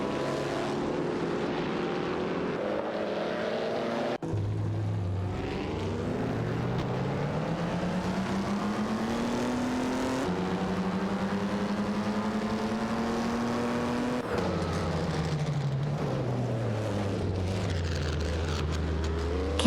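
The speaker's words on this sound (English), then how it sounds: "Smirky 75 Xbox and Amy are fiercely contesting P12 against the Jedi Muffin and Super LaCroix in their respective cars, an Auto Union Type D." Vintage racing cars in a video game race, among them an Auto Union Type D, an Alfa Romeo and a Mercedes-Benz, scream past with high engine whines that rise and fall as they shift gears. The sound is loud and continuous, with no voices.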